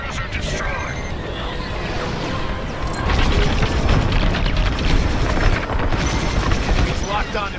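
Imperial cruiser blowing apart in Star Wars Squadrons, a dense rumbling blast with crackling debris that swells and holds loud for several seconds amid game effects.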